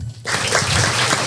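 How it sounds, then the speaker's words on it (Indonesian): A podcast audience in a small studio bursts into steady clapping that starts abruptly and continues evenly for about a second. "Tepuk tangan dong."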